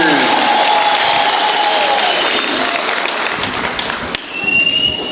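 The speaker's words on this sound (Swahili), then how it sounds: "Tumpe Bwana makofi kwa ajili ya nabii." Applause from the congregation at a Christian church gathering in Kahama, Tanzania, welcoming a prophet: a dense, steady wash of many hands clapping, loud and close, with crowd noise blended in and easing slightly near the end.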